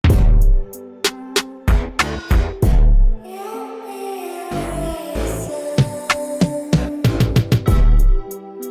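A music sample run through the Waves Magic 7 reverb plugin: loud percussive hits and pitched tones ring out with washy reverb tails, then a sustained middle swell before a final flurry of sharp hits.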